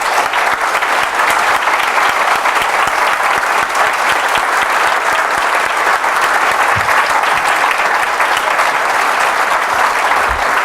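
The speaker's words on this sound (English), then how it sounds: "So I'd like to have a big round of applause for Bill McDonald." Sustained, dense applause from a large audience at a talk at The Building Centre in London, loud and steady throughout with no pauses.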